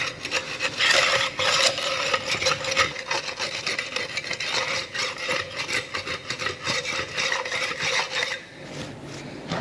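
A cast piece has its edges rounded off by hand during bathroom plastering work, giving continuous close rasping and scraping strokes in an uneven rhythm, with no talk.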